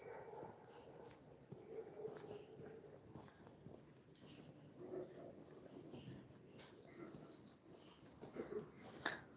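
Birds chirp and twitter in short, high calls scattered over a quiet outdoor background, some notes nearer and brighter than others.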